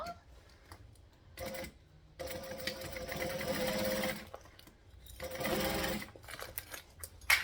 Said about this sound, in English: So now that that's all clipped, let's go stitch all the way around.